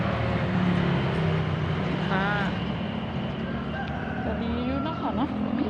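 A rooster crows at a distance from a green cornfield, one strained call rising out of a noisy outdoor background, with a person talking nearby.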